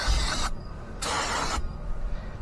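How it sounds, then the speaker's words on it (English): Two hissing bursts of brake cleaner aerosol sprayed onto a Mitsubishi Mirage front brake rotor, about half a second each, loud and close with a brief pause between them. "Make sure you give it a good coating of brake clean."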